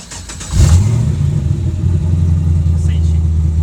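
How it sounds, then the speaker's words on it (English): A 280Z car engine catches with a brief rev, then settles into a steady, close idle hum at about 900 rpm that runs on unbroken. "right now it should be idling at about 900"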